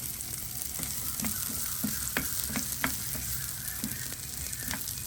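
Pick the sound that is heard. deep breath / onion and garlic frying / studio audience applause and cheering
onion and garlic frying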